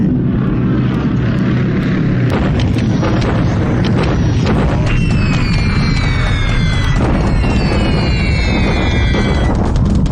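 A bombing raid in the War in the Pacific video game, with loud continuous propeller aircraft drone and rumbling explosions filling the whole stretch, and the whine of diving planes sweeping through the later part.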